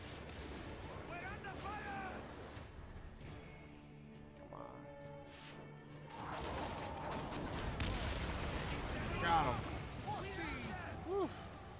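Ship cannons boom during a naval fight in Assassin's Creed Origins, with heavy rumbling blasts and crashing noise under loud shouted crew voices, building toward the end.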